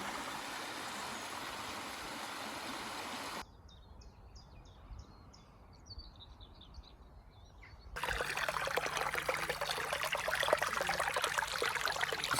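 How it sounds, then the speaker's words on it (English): The River Welland flows steadily nearby as a broad, continuous rush of water, loud at first, dropping to a softer trickle with faint bird chirps in the middle, then surging back up louder near the end. "The mighty River Welland."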